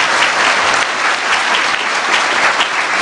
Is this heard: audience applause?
yes